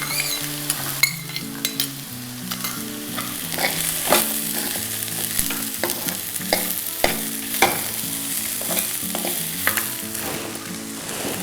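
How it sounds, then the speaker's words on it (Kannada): Finely chopped beans stir-fry in a pan, a steady sizzle broken by repeated scraping and clinking strokes of a spatula, close and fairly loud, with no voices. "ಬೀನ್ಸನ್ನು ಹಾಕ್ಕೊಳ್ತಾ ಇದ್ದೀನಿ ಬೀನ್ಸನ್ನು ಕೂಡ ಸಣ್ಣದಾಗಿ ಹೆಚ್ಚಿಟ್ಕೊಂಡಿದೆ"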